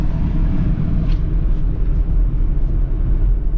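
A grease-caked 1972 Chevrolet C20 pickup with a 350 V8, four-speed manual and a leaking exhaust, driving with a steady loud low engine rumble throughout, heard from inside or close by.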